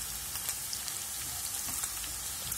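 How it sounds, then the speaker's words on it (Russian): Meat and hot pepper sizzling in a hot pan, a steady soft crackle and spit throughout, fairly quiet and with no talk. "Как только мясо начало румяниться слегка, отправляем перец острый. Обжарим полминуты."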